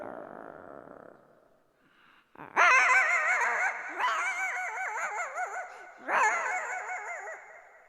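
A man imitates a female dog with his voice, producing several loud, close, strained barks and whines in three bursts that follow a short stretch of lower vocal sound.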